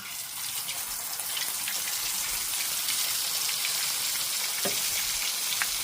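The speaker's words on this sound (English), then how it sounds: "You'll see it sizzles around the wooden little utensil here." Steady crackling sizzle of taco shells deep frying in hot oil, close and continuous, with occasional sharper pops.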